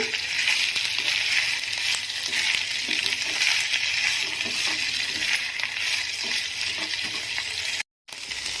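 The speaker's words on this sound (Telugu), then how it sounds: "ఈ మునగాకు అనేది ఫ్రై అవ్వడానికి మరీ ఎక్కువ టైం అయితే తీసుకోదు." Drumstick (moringa) leaves frying in a pan, a loud, steady sizzle running almost without a break, with a brief silent gap near the end.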